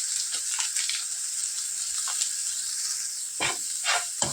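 Spices with coriander powder and a packet of Maggi masala sizzle and hiss steadily in a pan for samosa filling, close and continuous, with a few louder bursts of stirring near the end; no one speaks.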